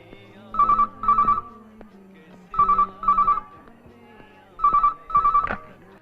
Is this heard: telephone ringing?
yes